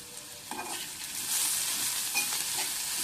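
Curry leaves and coriander dropped into a frying puri curry, a close, steady hiss of sizzling oil with brief crackles and stirring, and no talk.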